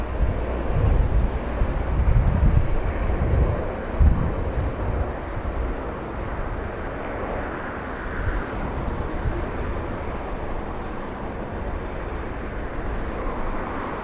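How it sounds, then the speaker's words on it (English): A China Airlines Boeing 777 cargo freighter departs from Los Angeles International Airport as a steady, distant low jet roar mixed with wind noise, continuous and fairly even, with no talk. "We have a cargo departure in the south. China Airlines cargo. Big 777 freighter."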